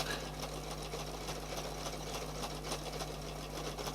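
A sewing machine stitches decorative stitches on fabric in a circle, producing a continuous fast mechanical chatter with a steady low motor hum, close and fairly quiet, with no talking.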